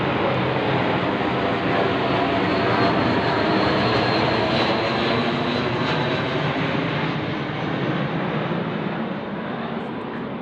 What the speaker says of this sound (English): Is that a patrol plane over my head?